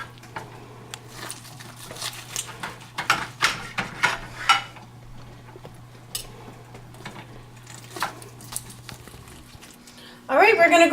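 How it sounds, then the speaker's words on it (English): Soft wet squishing and knife taps as juicy cooked corned beef is sliced on a board, faint and close, scattered irregularly through kitchen background hum before a louder clatter at the end. "You can hear it squishing as I cut it."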